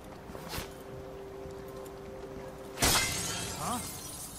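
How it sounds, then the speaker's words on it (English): Glass shatters in the video game Dishonored 2: one sudden, loud crash breaks over a steady low ambient hum, then a few fainter tinkling fragments follow. "sounded like broken glass"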